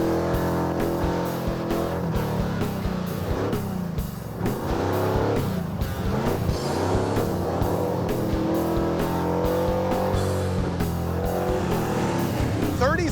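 A car is driven hard around a race track, its engine roaring and revving continuously with tire noise, loud and close throughout as a person talks over it.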